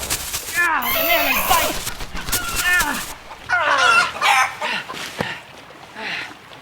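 A live chicken clucks and squawks in an outdoor survival setting, a run of agitated, rising calls in bursts with short gaps, loud and close, and one sharp knock near the end.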